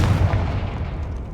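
In Hogwarts Legacy, a Confringo blasting spell sets off a loud, close explosion: a heavy booming rumble that fades out over about a second, with no talk.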